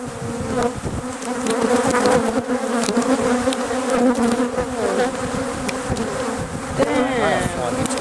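Angry honeybees swarm densely around a beekeeper, a loud, constant buzzing hum close by with individual bees whining past and striking, no talk over it.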